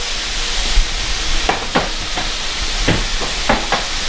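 Sauce simmering in a home-kitchen pan gives a steady, close hiss and bubble, broken by a few light scraping taps of a utensil against the pan.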